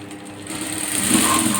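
A home sewing machine runs steadily as it stitches a fabric seam, a continuous mid-pitched mechanical whir that grows slightly louder partway through, with no talking.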